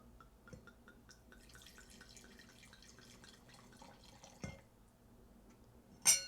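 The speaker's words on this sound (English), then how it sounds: "I'm going to pour a glass." Altavins Almodi Garnacha red wine from Terra Alta is poured into a glass, a quiet trickling stream with soft drips, followed by a couple of louder clinks of glass, with no talk.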